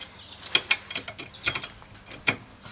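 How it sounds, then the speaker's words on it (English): A ratcheting wrench clicks in short bursts while car wheel bolts are undone in a crisscross order, with sharp mechanical ticks spaced irregularly, close and moderately loud, and no talking. "we can now undo the rest of these bolts"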